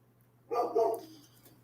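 A dog gives one short double bark, muffled and moderately close, over a quiet background with a low steady hum.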